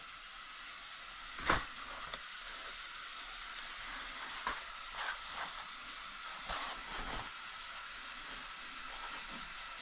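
Onion frying in a greased pan on the stove, a steady close sizzle with a few sharper crackles and clicks scattered through, no voices.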